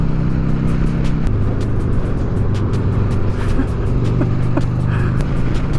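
A motorcycle rides past, a loud continuous engine drone close by for several seconds that holds steady with only slight shifts in pitch.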